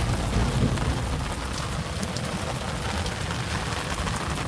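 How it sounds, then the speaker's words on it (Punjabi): Cool monsoon rain pours in a steady, close downpour, a thick constant hiss with faint low rumbling underneath and no voices. "ਠੰਡੇ ਠੰਡੇ ਮੀਂਹ ਲੱਗ ਰਿਹਾ ਹੈ"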